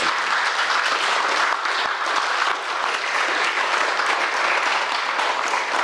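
Audience applause for an AV team, dense and steady clapping from many hands sustained throughout without a break, alone with no voices.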